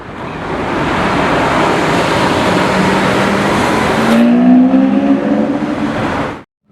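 Rear-wheel drive Lamborghini Huracan Evo engine roaring steadily and loud, with a rising pitch toward the end as it drives past, then cutting off abruptly.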